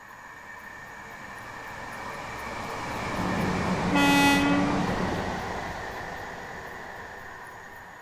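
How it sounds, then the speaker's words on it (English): An AI train in Train Sim World 6 on the East Coastway route sounds a single long, loud horn blast at a whistle board, over a rumble that swells as the train draws near and fades as it passes. "AI trains blasting their horns when they pass a whistle board"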